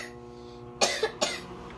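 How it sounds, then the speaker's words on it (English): A child coughs twice in quick succession at close range indoors, in a kitchen during cooking, each cough short and sharp against a quiet background hum. "you need to cough into your elbow"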